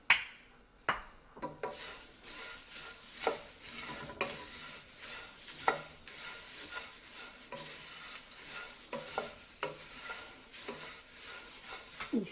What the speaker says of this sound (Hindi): कुरमुरा सिक गया है। इसमें राइजिन क्रिस्पी डालेंगे।